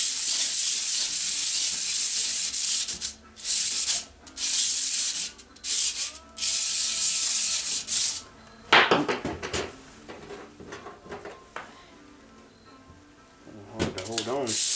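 A bronze thrust washer from a 1980 Can Am MX-6 125 is rubbed on sandpaper in a figure-8 motion, giving loud rasping strokes in bursts with short pauses, then quieter scraping and handling noises as a voice talks.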